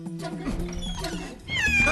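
A cat meows in a rising, wavering cry near the end, preceded by low murmuring voices and background noise in a Tamil comedy scene.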